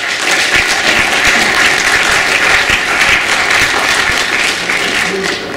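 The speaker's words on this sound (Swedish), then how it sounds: "Ge Hans en applåd." An audience at a talk on a municipal procurement model breaks into steady, full applause that holds for several seconds, with a few individual claps standing out.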